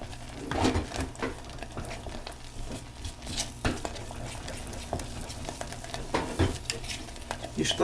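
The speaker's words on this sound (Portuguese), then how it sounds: "O segredo também é não parar de mexer" Sweet bread cream being stirred in a pan over heat, with steady scraping and gentle sizzling at close range and occasional louder knocks of the utensil against the pan, no talking.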